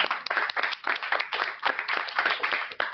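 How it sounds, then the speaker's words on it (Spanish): Audience applause at a youth forum event, a steady wash of many hands clapping at close range, dense and even for a few seconds with no voices over it. "un aplauso más para ustedes"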